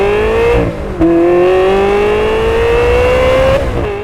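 Ferrari 360 Modena's 3.6-liter flat-plane-crank V8 revs up in a sharp climbing wail, drops for a shift, then climbs again, loud and close with no talking.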